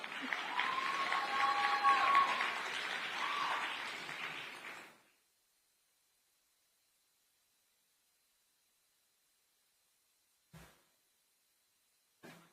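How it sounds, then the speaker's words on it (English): Audience applause at a conference event on children's digital safety, a few seconds of dense clapping that fades away into silence, followed by two faint brief knocks. "Let's give her a round of applause."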